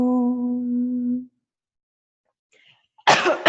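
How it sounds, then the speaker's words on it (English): A single person coughs in a short, harsh burst at close range, following a sustained sung Om tone in a yoga class setting that fades into silence before the cough. "Now I'm going to keep coughing"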